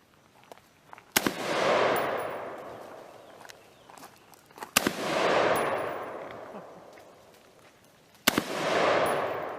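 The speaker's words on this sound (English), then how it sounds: "He's shooting his AR-15." An AR-15 rifle fires three widely spaced shots at an outdoor shooting range. Each is a sharp, loud crack followed by a long rolling echo that fades before the next.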